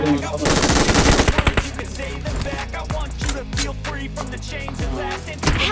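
Gunfire in the video game PUBG Mobile: loud, rapid automatic bursts opening the clip, followed by scattered single shots and short volleys, close and dominant.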